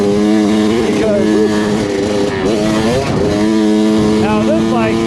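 A Kawasaki KX100 dirt bike ridden in the hills, its engine loud and close, climbing in pitch and dropping repeatedly as it is short shifted through the gears.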